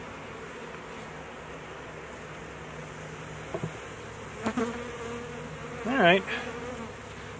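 A swarm of honeybees hums steadily in an apiary as it is moved into a hive, with a close bee buzzing past loudly near the end and a brief spoken remark.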